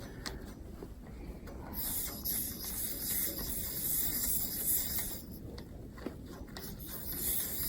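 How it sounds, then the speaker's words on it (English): A 30 psi pressure gauge is fitted onto the Schrader valve of a propane regulator during a leak check, with close scraping and fitting noises followed by a steady, fairly loud hiss. "We take and hook up to what's a Schrader valve on the regulator"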